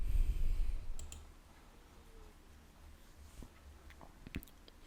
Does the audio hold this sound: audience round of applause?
no